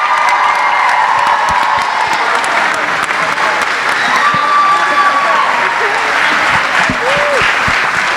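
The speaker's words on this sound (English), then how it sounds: "A whole round of applause for all these seniors up here." An audience gives sustained loud applause for graduating seniors at a pops concert, dense clapping mixed with cheers and whoops from the crowd throughout.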